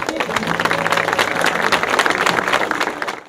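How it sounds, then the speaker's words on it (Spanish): Crowd at a funeral for a murdered man in Tapeistles, Manzanillo, Colima, giving sustained, dense applause, a close wash of many hands clapping steadily and loudly before tapering off at the end. "Vamos a brindarle un fuerte y un caluroso aplauso a Germán."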